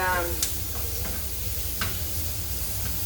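Butternut squash sizzling and frying in a pan while a salad is prepared, a steady low hiss with occasional soft clicks and stirring taps throughout.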